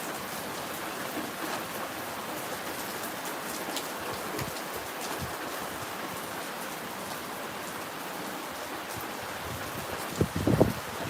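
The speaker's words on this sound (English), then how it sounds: "Rain, we do get it." Heavy summer rain falls on a garden in Russia, a dense, steady patter and hiss that holds the whole time. A few louder drips or knocks come near the end.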